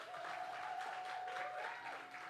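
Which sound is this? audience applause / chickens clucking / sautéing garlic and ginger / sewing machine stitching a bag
audience applause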